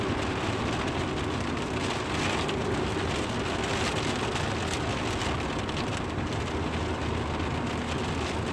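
A rainstorm pours outside in a dense, constant hiss of rain on surfaces, steady and moderately loud throughout, with no talking.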